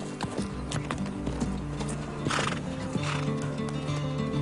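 Horses in a Hollywood western film scene, with repeated loud whinnies and neighs over rhythmic hoof clip-clops and a busy background, close and without talk.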